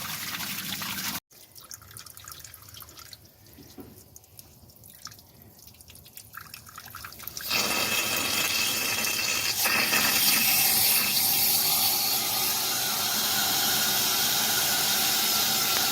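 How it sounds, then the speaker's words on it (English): A garden hose flushes water through a small-block engine from a 1955 Chevy Bel Air in a backyard. Light dripping and trickling comes first, then a steady loud gush of water runs on close by. "we got clean, clear water coming out of each side"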